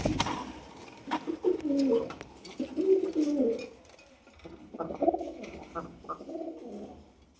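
Male satin pigeon cooing, with several deep, throaty coo phrases close by, separated by short pauses.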